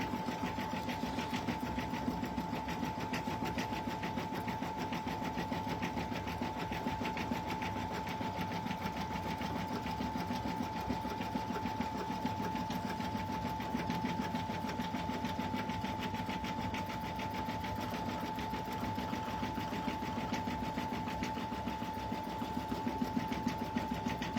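A sewing machine runs steadily for the whole stretch, stitching down the backs of the ears on a stuffed toy, a continuous close mechanical whir with a sustained tone and no speech.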